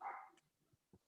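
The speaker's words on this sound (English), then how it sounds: "I'm so sorry if you hear my dogs in the background." Dogs at home give a short burst of barking near the mic, followed by a few softer yips and whimpers that trail off.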